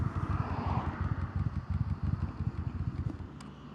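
A motorcycle engine idles on choke, a low rough, pulsing thrum with uneven beats that stumbles and drops off near the end, close by with no talking.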